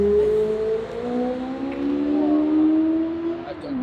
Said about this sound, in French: la moto, elle fait du bruit, mais elle avance pas